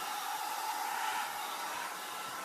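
Hair dryer blowing on alcohol ink artwork, a steady, faint whooshing hum running unbroken and alone.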